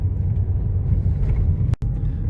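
A car drives along a village road past a church, its engine and tire rumble low and steady from inside the vehicle, with a brief cut near the end.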